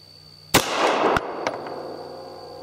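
A Beretta 84 Cheetah pistol fires a Corbon 80 grain DPX round: one sharp loud shot, followed by a ringing tail and a couple of fainter metallic clanks, with no talking.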